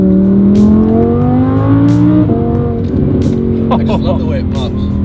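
A Mercedes E63S AMG with an aftermarket exhaust drones loudly while driving, then its engine note falls off and sharp crackling exhaust pops fire in quick bursts, with people talking over the sound.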